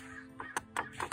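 A crow cawing outdoors in a park, giving several harsh, rasping caws in quick succession, close and fairly loud, over a steady outdoor background.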